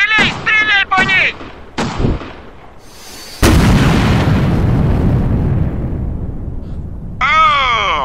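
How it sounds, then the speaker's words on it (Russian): Gunfire in a video game sniper battle: a sharp loud shot followed by a long booming decay, after earlier short bursts, with voices talking at the start and end. "Стреляй, стреляй по ней!"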